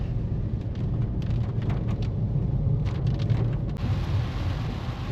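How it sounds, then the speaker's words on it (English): Heavy rain drumming steadily over a low road rumble, a constant dense downpour heard from inside a moving vehicle. "It is still pouring it down."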